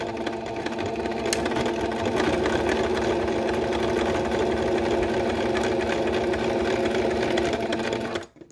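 A sewing machine runs a steady straight stitch across fabric on a small doll purse, its close motor hum continuous for about eight seconds before stopping abruptly.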